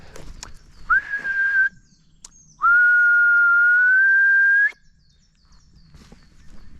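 A person whistles outdoors to call a dog, first a short whistle, then after a pause a long sustained steady whistle, loud and close, with faint background noise between.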